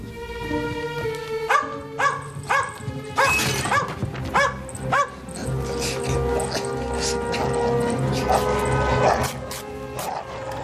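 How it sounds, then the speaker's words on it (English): A dog barks and yips in a series of loud, sharp bursts in a dark, enclosed place, with whimpering between the barks and occasional voices underneath. "Call off your beastly dog!"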